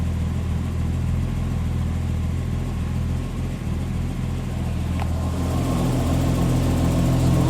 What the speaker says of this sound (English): Smooth idle, that's warming up.